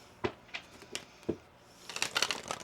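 Tarot cards being shuffled by hand, a few separate crisp slaps and riffles spaced about a third of a second apart, then a quicker cluster of papery flutters, close and fairly quiet with no talk.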